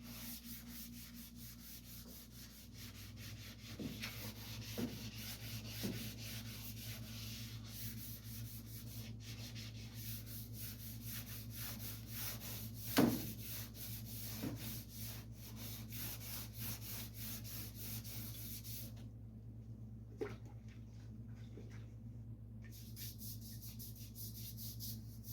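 Quiet, continuous back-and-forth rubbing of wet sanding with a block on a chopped 1937 Pontiac project car, steady strokes with an occasional light knock, under a low background hum.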